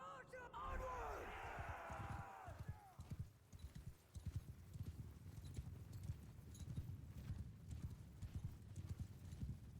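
Cavalry horses gallop in the Mount & Blade II: Bannerlord video game, a dense rolling thunder of hoofbeats under battle noise, with a horse whinny near the start and a voice calling orders.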